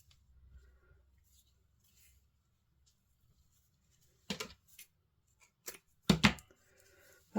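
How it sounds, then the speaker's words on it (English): Scissors cutting a stamped paper bookmark in half, a few sharp close snips after a near-silent stretch, ending in a quick cluster of louder cuts. "I'm going to cut that in half."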